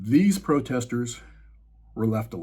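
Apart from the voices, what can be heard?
No distinct noise like a dog, phone or traffic.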